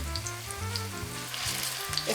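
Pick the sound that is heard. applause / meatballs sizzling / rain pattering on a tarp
meatballs sizzling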